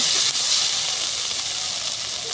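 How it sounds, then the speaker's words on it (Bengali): Dry spice masala frying in a pan for a spicy bata fish dish, giving a steady, close, broadband sizzle with no gaps and no talking. "মশলাটা আমার ভাজা হয়ে গেছে"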